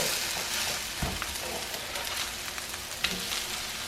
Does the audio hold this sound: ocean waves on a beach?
no